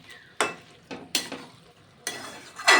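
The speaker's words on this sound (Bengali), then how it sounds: "ভালো করে নেড়ে চেড়ে কষিয়ে নেব আলু মটরের সঙ্গে।" Potatoes and peas with a little sour yogurt are stirred and sautéed in a pan, with a few distinct spatula scrapes and scoops over a soft sizzle, spaced irregularly and close by.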